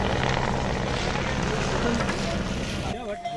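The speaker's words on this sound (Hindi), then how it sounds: "ये हेलीकॉप्टर उड़ी जा रहा" A helicopter's steady rotor drone with broadband engine noise fills the clip at close range, easing off near the end, on the route to Kedarnath; voices murmur underneath.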